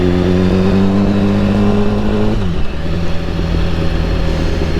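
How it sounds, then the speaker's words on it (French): BMW S1000RR sport motorcycle on a scenic road, its engine droning loud and steady with a sustained tone that drops in pitch partway through as it shifts, then keeps pulling. "mais c'est vrai que c'est une moto"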